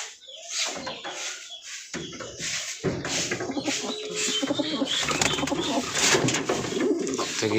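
Racing pigeons give repeated, close, throaty coos in a steady overlapping stream, with occasional wing flutters and rustling among them.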